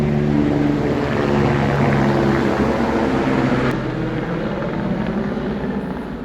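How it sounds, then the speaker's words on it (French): Two or three helicopters, likely firefighting aircraft near wildfires in Spain, pass overhead with a loud, steady rotor drone and engine roar that fades slightly toward the end. "Il n'y en a pas qu'un hélico, il y en a 2 ou 3."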